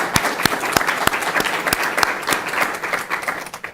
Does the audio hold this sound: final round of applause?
yes